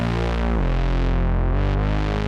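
A gritty Serum synth bass line, pushed through distortion, compression, chorus, flanger and reverb, plays loud and steady with shifting, swirling harmonics and a couple of pitch changes, no voices present.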